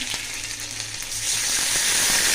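Ginger and garlic fry in a hot pan, a loud, continuous sizzle with a few soft clicks of stirring, growing stronger and brighter partway through.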